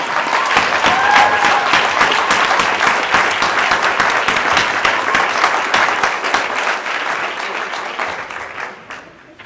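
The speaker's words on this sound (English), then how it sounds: "one more final round of applause for all of our new lieutenants" Sustained audience applause for newly promoted police lieutenants at a department promotion ceremony, a dense wash of many hands clapping loudly for about nine seconds before tapering off near the end.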